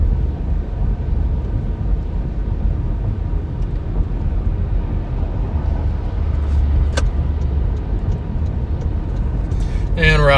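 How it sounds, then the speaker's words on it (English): Busy campus road traffic rumbles steadily during winter weather in Oklahoma City, a continuous low roar of cars passing close by, with a sharp click partway through and a brief rising whine at the end. "Traffic's probably going to be pretty busy on campus right now."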